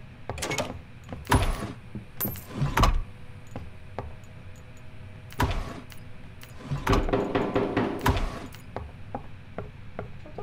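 Knocking in the Roblox game Doors: close, loud irregular raps in several clusters, some quick runs of knocks and some single thuds, with faint background game sound between them.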